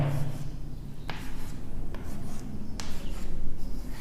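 Marker or chalk writing on a board during a chemistry lesson, a few scratchy strokes with short taps, close and steady over low room noise with no talking.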